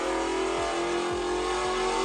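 A 1966 Mustang engine revs hard and close, with three quick throttle blips rising and falling over a loud steady engine roar.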